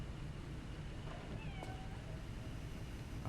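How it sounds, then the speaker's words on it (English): A small cat in the game Lies of P gives a faint, short meow with a sliding pitch. It sits under a constant low ambient hum, with no voices. "I didn't like the sound of that meow"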